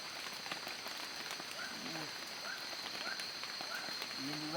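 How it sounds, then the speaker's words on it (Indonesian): Light drizzle falls at a treehouse camp, making a faint, steady hiss of fine rain that continues evenly throughout with no talk. "Ini hari udah gerimisan."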